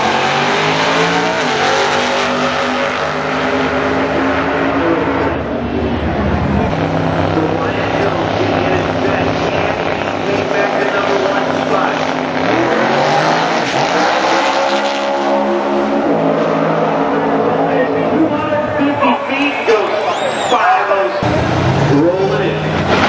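A nitrous-fed drag racing car accelerating hard down the strip, a loud sustained engine roar with shifting pitch, heard over an announcer's commentary.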